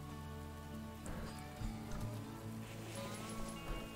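Steady rain falling in the survival video game The Infected, a soft continuous patter of drops on surfaces, faint and even, layered over low droning game music with no talking.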